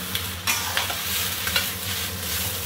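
Ginger, garlic and dried tofu stir-fried in a wok, a continuous sizzle broken by scraping tosses of a spatula at an even, brisk pace, close and fairly loud.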